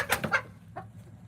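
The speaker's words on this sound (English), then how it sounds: "They're copper moran roosters" Copper Maran roosters cluck in a short run of three quick close calls, followed by a single softer cluck a moment later.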